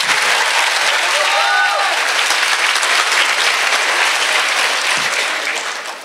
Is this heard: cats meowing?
no